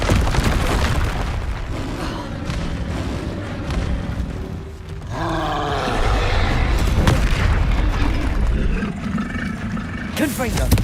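Confringo fire spell explosions in Hogwarts Legacy: heavy booming blasts and roaring rumble during a hectic fight, continuous and loud, with voices mixed into the chaos.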